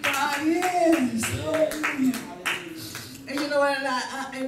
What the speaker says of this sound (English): give God a hand clap of praise